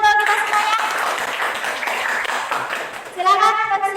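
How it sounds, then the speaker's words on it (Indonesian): A group clapping together in a classroom, loud and dense for about three seconds, with children's voices mixed in and a voice speaking at the end. "Tepuk tangan untuk kita semuanya"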